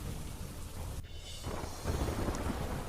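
Heavy rain during a thunderstorm, a dense steady hiss of rainfall with a low rumbling undertone, a brief dip near the middle, then the downpour swelling slightly louder, fairly distant and moderate in level.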